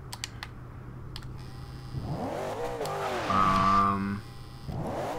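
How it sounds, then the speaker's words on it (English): A 2015 Chevrolet Camaro Z/28 attempts a burnout in the racing game Forza Horizon 2. A few sharp clicks come first, then the engine revs up loudly in rising and falling sweeps, peaks in a strained high rev and drops, then climbs again. "let's see exactly how good a burnout we can do here"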